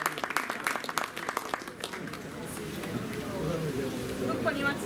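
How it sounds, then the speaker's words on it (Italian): Scattered applause from a crowd at a lottery draw in Termini Imerese, hands clapping irregularly with a steady murmur of voices and room noise underneath. "Io vi chiedo soltanto un applauso"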